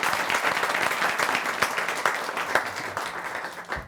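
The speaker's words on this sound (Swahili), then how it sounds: "Manze mnapiga makofi hivi majonzi." A studio audience claps for comedians arriving on a talk show, a dense, sustained wash of applause that holds steady and then fades slightly toward the end.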